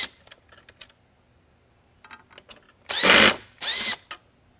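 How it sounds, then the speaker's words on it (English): Power screwdriver backing out mounting screws from a Whelen 11 inch Century Series Mini Lightbar: two loud whirring bursts near the end, preceded by soft clicks and taps of handling, close up and without talk. "We'll go ahead and remove the four mounting screws here to free up this corner section."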